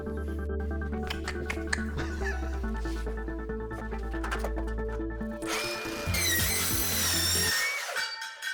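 A power drill drives self-tapping screws into brick, whining in steady bursts with pitch shifts as the screw bites, close and loud throughout, then a brief higher-pitched rising whir near the end.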